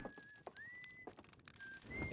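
Esker, a character in the video game Outer Wilds, whistles a thin, wavering tune in a few short phrases with brief gaps, faint and alone against a quiet background.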